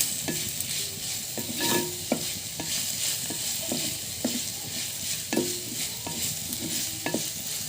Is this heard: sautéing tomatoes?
yes